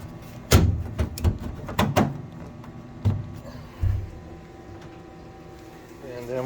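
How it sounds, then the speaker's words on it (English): Metal access doors are fitted back onto a household furnace: a series of sharp clanks and knocks at irregular intervals, loud and close, followed by quieter handling noise. "so now we can put the doors back on"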